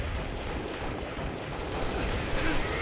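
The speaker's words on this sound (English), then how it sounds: "Stop your grenades!" Video game grenade explosions in a steady wash of dense, booming gunfire-like noise that lasts the whole few seconds, with no quiet gaps.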